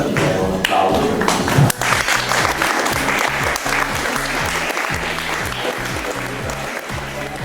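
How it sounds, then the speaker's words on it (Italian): An audience at a book presentation for Cristiano Mazzurana's "Di nuovo laggiù" in a civic hall applauds loudly and continuously, dense clapping with some thumping taps underneath, holding steady from start to finish. "ti do un applauso"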